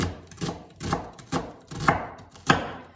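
A knife chops a white sweet onion into half rings, with five steady, evenly spaced thuds on a cutting board, close and clear with no talking.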